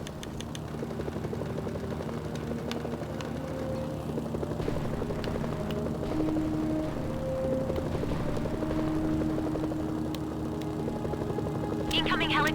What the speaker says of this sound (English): Incoming helicopters. They'll tear through the tanks.